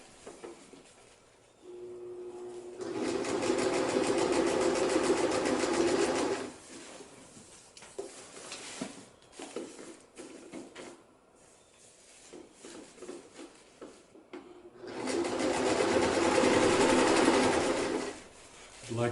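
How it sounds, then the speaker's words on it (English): A sewing machine stitches fabric for a homemade sleeping bag in two sustained bursts of a few seconds each, with a person speaking and small handling noises in the quieter stretch between them. "I like this to be a continuous stitch all the way so that I don't have any loose ends and fabric is held in place really well."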